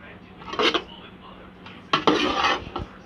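A spoon stirs rice and vegetables together in a pan for Chinese rice, with two bursts of close scraping and clattering against the metal separated by quieter moments, and no speech.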